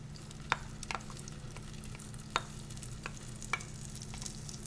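Pollock roe cooking in melted butter in a pan: a faint, steady sizzle with a few light clicks and taps from a utensil.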